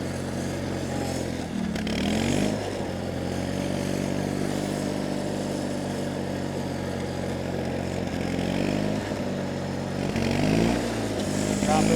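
A 37-year-old John Deere 316 garden tractor with carburetor trouble runs and drives nearby, its engine droning steadily with a few revving surges, loud and continuous throughout.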